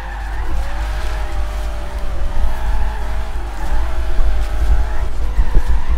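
A car in the racing game Forza Horizon 3 drives hard, its engine running under a continuous loud tire skid and squeal, with no talk.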